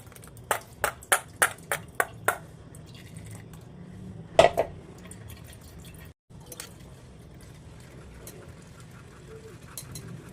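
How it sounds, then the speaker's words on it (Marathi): Blended watermelon juice with black pepper being strained at home, beginning with a quick run of rhythmic taps, followed by soft drips, wet squishing and a few clinks of utensils, close up and quiet. "आता हा मिक्सरचा ज्यूस केलेला आपण तो गाळून घ्यायचा आहे।"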